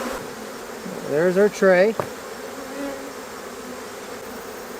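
Honey bees swarm around an open beehive, a steady close buzzing drone throughout, with a man's brief speech in the middle.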